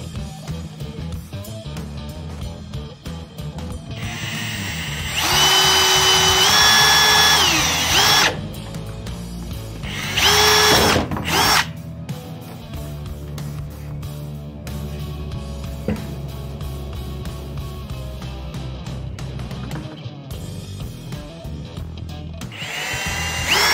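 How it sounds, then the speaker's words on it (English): A power drill bores holes into the cracked dashboard of a second-generation Dodge Ram pickup, with two loud high-pitched whirring bursts standing out over a steady background of handling noise and clatter. "So we'll drill some holes."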